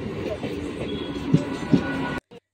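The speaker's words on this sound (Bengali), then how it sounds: "এই ট্রেনটা আমাদের এসে গেল" A crowded Sunday commuter train pulls into a station on the Barasat line, a loud close rumble of rolling wheels with a couple of clanks before the sound cuts off abruptly.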